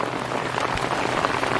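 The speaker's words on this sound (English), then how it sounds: "Okay, it's raining harder, you can hear." Steady rain falling hard over a spring vegetable garden of tomatoes, bok choy and lettuce, a dense continuous hiss of drops hitting leaves and surfaces close by, with no voices.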